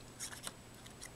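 Scissors snip through a scrap of pink paper for a pregnancy congratulations card, giving a few quick, close, crisp cuts over a quiet background.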